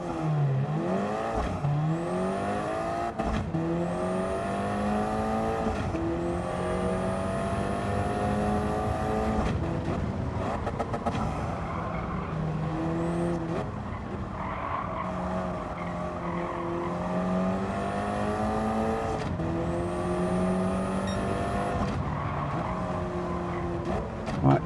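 Race car engine in Gran Turismo 7 on a track lap, a steady loud drone with rising and falling revs through gear changes and occasional tire squeal, continuous throughout with no talk.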